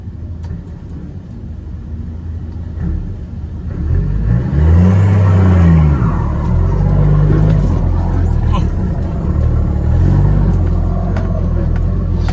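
Car engine revving hard to pull away up a steep road, the low drone climbing and falling in pitch a few times, loud and close inside the cabin, with someone talking over it.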